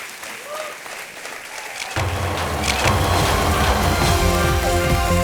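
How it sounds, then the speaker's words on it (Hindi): Studio audience at a TV quiz show bursts into loud, sustained applause that swells partway through and keeps going, broad and enveloping, with faint music and voices under it at the start. "तालियां बजती रहे देवी और सज्जनों"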